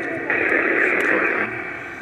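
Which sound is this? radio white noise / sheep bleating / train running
radio white noise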